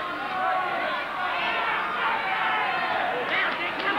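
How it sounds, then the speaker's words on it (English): A ringside crowd at a televised boxing match roars in a dense, sustained wash of voices as the fight nears its final seconds, the cheering steady and fairly loud without clear individual words. "Listen to the crowd finding voice now as Dick Duffy and Fred Etuati fight it out in the last 2 seconds of the fight."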